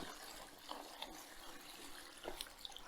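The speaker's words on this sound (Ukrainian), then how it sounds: "беремо теплу воду прямо з крана" Warm tap water runs into a bowl of beeswax cappings with a faint, steady trickle and a few soft splashy spots, quiet and close.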